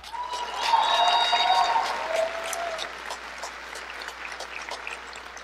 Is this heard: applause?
yes